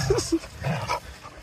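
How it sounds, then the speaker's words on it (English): Two dogs, brothers, roughhousing in play, giving short growls and yelps close by in a quick burst, with a voice faintly mixed in. "They're just playing though. They're brothers. Brotherly love. Crazy dogs, but I love them."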